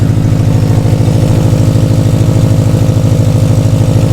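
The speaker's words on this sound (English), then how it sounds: "It does have a exhaust leak." A Subaru STI engine idles close by with an exhaust leak, its steady rumble marked by a rapid, even puffing pulse from the exhaust, loud and uninterrupted.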